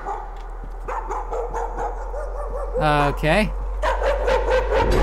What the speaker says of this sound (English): Dog! We had a dog!